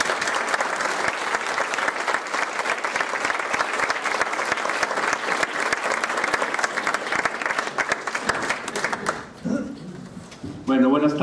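An audience at a cooking lecture gives a loud, sustained round of applause to welcome a chef. The clapping stays steady for about nine seconds before fading, and a voice then begins speaking.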